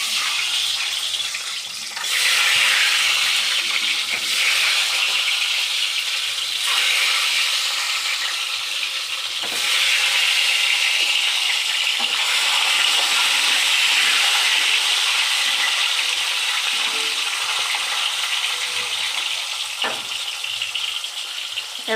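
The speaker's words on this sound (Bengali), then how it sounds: "নাও চলো ডিমগুলো ভাজি।" Duck eggs sizzle and spatter steadily in hot oil in a pan, a loud, continuous frying hiss lasting throughout with brief stirring shifts.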